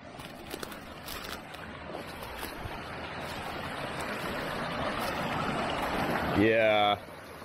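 A creek flows through dense bush, a steady broad rushing wash of water that swells slightly over several seconds, with a brief voice-like sound near the end.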